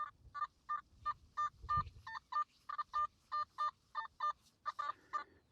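A Nokta Simplex Ultra metal detector in four-tone mode sounds a rapid series of short electronic beeps in quick, evenly spaced bursts, with faint rustling underneath.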